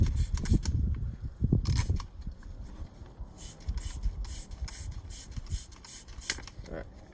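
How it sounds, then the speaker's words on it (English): Water sprays onto a clamp holding geodes while they are cut with an angle grinder, heard as soft hissing bursts among light scraping and handling noises, fairly quiet. "I want to more aggressively spray off my clamp."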